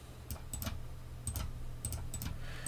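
Sparse keystrokes on a computer keyboard while commands are entered in a Linux Ubuntu terminal: short clusters of crisp, close clicks separated by brief pauses, over a quiet room hum.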